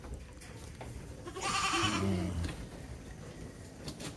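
A goat gives one loud, close bleat lasting about a second during natural goat mating on a farm, set against quiet background noise.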